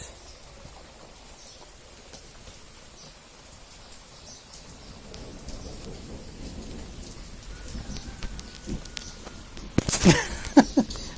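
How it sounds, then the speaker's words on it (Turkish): Steady rain falling in a rural village, with thunder rumbling louder and closer toward the end, no voices. "Burada güzel bir yağmur yağdı."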